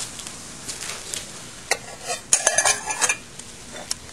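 A lid lifts off a pot of water that has boiled for ten minutes on a pioneer survival stove, with soft metallic scrapes and clinks that build into a brief cluster of clatter, heard without talk.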